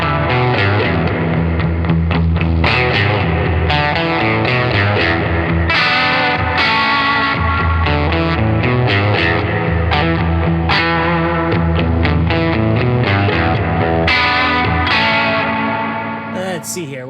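Distorted electric guitar chords through a Spruce Effects Jr Ranger Yosemite reverb pedal ring out with heavy reverb and echo, sustained and loud, with the tail washing out at the end.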